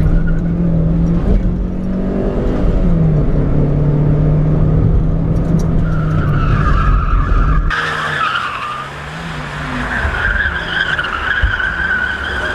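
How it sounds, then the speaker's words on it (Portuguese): A company car driven at full throttle around a race track, engine roaring and tires skidding loudly through a technical corner, the pitch shifting as it accelerates out; no talking. "Sair com o motor cheio aqui."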